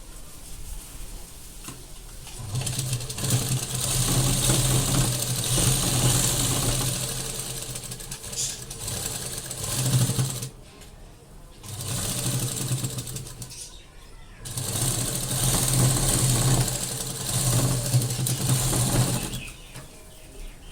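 A sewing machine stitches the lining of a blouse, running in three long bursts with short pauses between, close and steady, with a low motor hum and rapid needle chatter.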